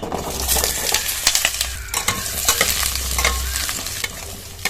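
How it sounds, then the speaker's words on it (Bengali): Loud, steady sizzling of bottle gourd frying in hot oil, with scraping stirs and spatula clicks throughout, no voices. "লাউটা দিয়ে বেশ কিছুক্ষণ ভেজে নেব"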